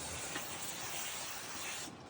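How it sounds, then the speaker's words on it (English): A steady, even hiss of liquid from a spray bottle, spraying down during an exterior window film installation, runs for about two seconds, fairly close, then cuts off abruptly near the end. "so now we're gonna spray it all down"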